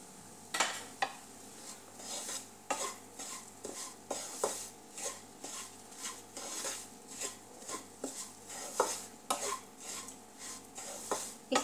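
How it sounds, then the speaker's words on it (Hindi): Atta halwa roasts in ghee in a pan while a metal spoon scrapes and clanks steadily against the pan, a quiet sizzle underneath the repeated stirring knocks, close by and without talking. "इस तरह से इसको भूनेंगे हम 10 से 15 मिनट तक।"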